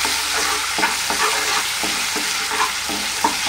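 Ginger-garlic paste fries in hot oil in a pan, giving a loud, continuous sizzle broken by soft scraping strokes of a stirring spoon.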